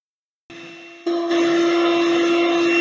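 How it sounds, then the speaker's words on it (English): A light-duty electric blender or beater whips homemade topping in a plastic container, starting after a brief silence with a steady motor whine that steps up louder about half a second later and holds constant to the end, with no talk. "a light duty blender or beater is all you're going to need this time."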